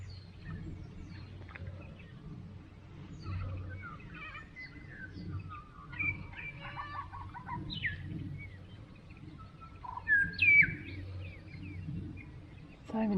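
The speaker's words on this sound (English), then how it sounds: "So many different birds singing this morning." Many birds singing on a spring morning at Lake Hume among flooded trees, varied chirps and whistles scattered through the air, fairly faint and distant over a low steady background rumble, with a couple of louder calls near the end.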